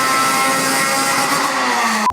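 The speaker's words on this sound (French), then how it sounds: "c'est le bruit de la saxo VTS au rupteur" Citroën Saxo VTS engine bouncing off its rev limiter, a loud, sustained high-revving buzz held steady for about two seconds before a sudden drop.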